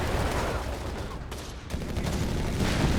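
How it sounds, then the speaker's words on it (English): Rapid automatic gunfire from a light machine gun in the World War II strategy game Company of Heroes 3, a dense continuous rattle of bursts filling the whole stretch with battle noise. "pushing back the Pioneer there with some well-aimed light machine gun fire"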